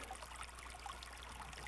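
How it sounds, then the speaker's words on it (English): A limestone-bed mountain stream, Dead Man Creek, runs with a steady, close, soft trickling wash, continuous and even throughout with no voices. "Dead Man Creek is one of those pure limestone bed streams."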